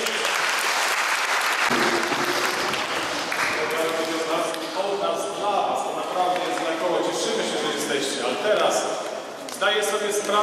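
Hearty applause from a church gathering honouring altar servers, a dense, sustained wash of clapping that carries on for several seconds with voices and some tonal sound mixed in beneath it.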